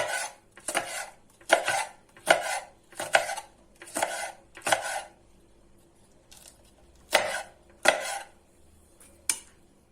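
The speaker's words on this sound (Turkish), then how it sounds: "Biberimi de yemeklik şekilde doğruyorum." Repeated sharp knife strikes on a cutting board, chopping peppers in quick bursts of two or three cuts with brief pauses, close and clear with no talking.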